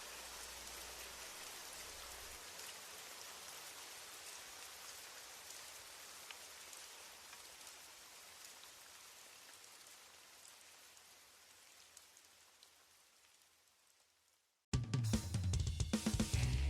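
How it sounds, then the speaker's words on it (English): Steady rain falls on a surface for about fourteen seconds, gradually softening and thinning out until it nearly stops, then a loud burst of music cuts in abruptly at the end. "as the rain slowly died down"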